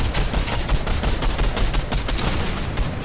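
Gunfire in a video game rattles nonstop, a loud, dense stream of rapid shots over a constant battle din with no pause.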